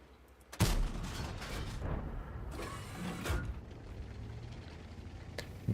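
Tank cannon fire in a tank video game: a sharp loud blast followed by rumbling mechanical noise, with a second heavy shot about three seconds later, then continued engine and track clatter.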